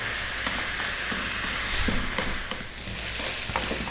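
Ground beef meat sauce with tomato paste sizzling steadily in a pan on the stove, with a spoon stirring and scraping through it in an even, continuous fry.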